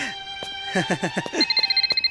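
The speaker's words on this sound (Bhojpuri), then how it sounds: "हे चित्रगुप्त, फोन उठा।" A telephone rings with a bright electronic melodic ringtone that ends in fast repeated beeps, close and fairly loud, in a film scene.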